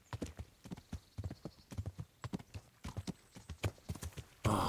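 A horse ridden in Kingdom Come Deliverance clip-clops at a quick, uneven gait, its hoofbeats crisp and close, ending in a burst of louder noise.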